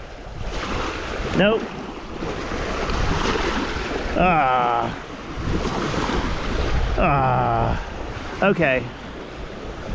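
Ocean surf washes steadily onto a shoreline beside a pot caught in the water, a continuous broadband rush with wind buffeting the microphone, while someone speaks a few short words over it.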